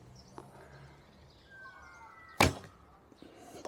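An Alibow Tang Dunhuang bow shoots a heavy bamboo arrow, a single sharp close release thwack standing out from faint outdoor ambience with distant bird chirps, then quieting down.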